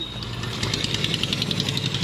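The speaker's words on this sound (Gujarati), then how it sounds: "ઓહો હો રિક્ષા નીકળી" An auto rickshaw passes through a village lane in Gujarat, its small engine chugging in a rapid, steady knock close by, with no talk.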